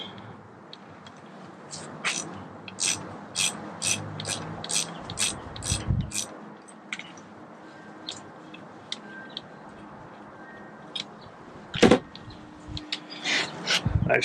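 A ratchet backs out a threaded coolant fitting on a Porsche 997 Turbo during engine-out repair, giving bursts of quick close clicks with pauses between them and a sharp metallic clank near the end.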